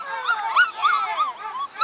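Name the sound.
puppies and mother dog whimpering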